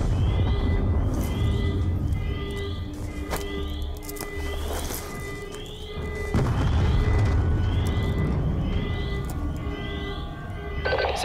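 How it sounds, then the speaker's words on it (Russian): Repeated booms and blasts rumble through a complex in the video game Call of Duty Black Ops 2, with heavy low thuds and a sharp burst near the end over a steady game soundscape. "По всему комплексу проходит серия взрывов."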